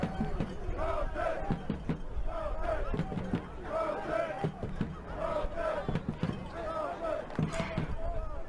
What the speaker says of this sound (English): Crowd singing.